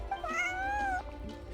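A single drawn-out cat meow from the video game Genshin Impact, rising then falling in pitch, sounds clearly for about a second over faint background ambience.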